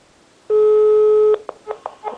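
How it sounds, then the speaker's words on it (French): A telephone call to a spy microphone: one long, steady ring tone sounds loudly, then it is answered, and several short clicks and faint voice-like sounds follow. "Ça va sonner une fois et ça va décrocher."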